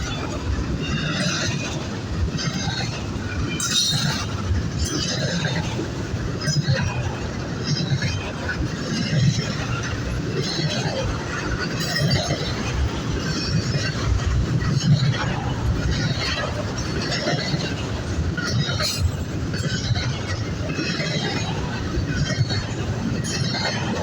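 Trains passing each other at night, a steady loud rumble of rolling cars with rhythmic wheel clatter and occasional metallic clinks, continuous for the whole stretch with a voice briefly over it.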